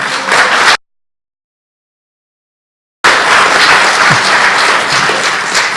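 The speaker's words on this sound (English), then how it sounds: "would you please give a round of applause for Ria Barnes" A hustings audience in Dunoon applauds Labour candidate Ria Barnes, loud steady clapping that cuts out abruptly into silence for a couple of seconds, then resumes as sustained applause.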